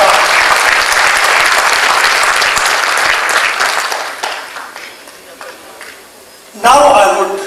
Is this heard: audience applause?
yes